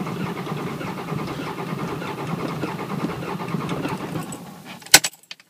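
A 5.9L Cummins diesel truck engine with piston damage cranks steadily and evenly for several seconds without starting during a relative compression test, ending with a couple of sharp metallic clicks and then silence.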